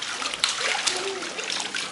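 Water splashing in a swimming pool, a steady wet spatter and slosh with a few sharper splashes, close by and continuous across the moment, with faint voices in the background.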